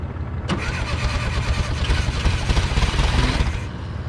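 Air-cooled engine of a 1970 VW Beetle found sitting in a field, cranked after cleaning its spark plugs: a sharp click, then a brief crank that catches and settles into a rough, loud, pulsing idle before cutting off.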